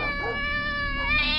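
Several caged cats meowing and caterwauling along a corridor of stacked cages, a continuous close chorus of overlapping tonal meows with no talk.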